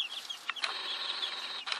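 Chickens in a coop cluck in short, bright bursts and a sustained squawk, close to the microphone and unaccompanied by talk.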